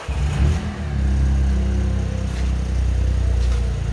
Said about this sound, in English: In a few seconds, the system will crank.